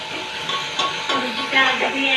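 Garlic and potatoes frying in a pan are stirred with a utensil, giving repeated scraping clinks over a steady soft sizzle, close and moderately loud.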